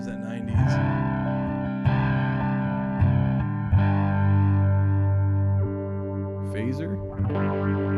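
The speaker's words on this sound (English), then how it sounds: "Flanger. Man, here's that 90s." Sustained guitar chords through a Line 6 POD Express flanger effect, sweeping and whooshing, strummed every second or so, clear and up close with a short high scrape near the end.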